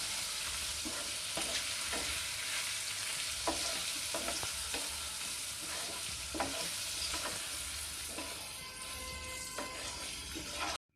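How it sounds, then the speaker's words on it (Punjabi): Turmeric, red chili and other spices fry in hot oil in a pan for aloe vera pickle, with a steady sizzle and repeated scraping strokes of a stirring spoon. The sound is close and unbroken. "ਬਸ ਹੁਣ ਇਹਨਾਂ ਮਸਾਲਿਆਂ ਨੂੰ ਪਕਾ ਲੈਣਾ ਹੈ"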